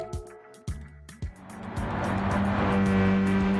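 Race car in the video game Gran Turismo 7: a few short thuds and menu blips, then the engine swells into a loud, steady high-revving roar that climbs in pitch.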